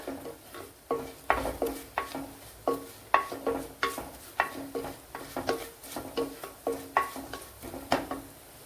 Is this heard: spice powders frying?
yes